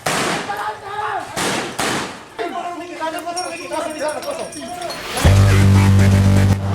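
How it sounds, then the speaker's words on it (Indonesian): Police in Makassar fire tear gas rounds to break up a street brawl between residents. Several sharp loud bangs sound close by amid shouting and crowd noise, followed by a steady loud roar. "Polisi unit penikam Polrestabes Makassar terpaksa melesakkan tembakan gas air mata secara bertubi-tubi."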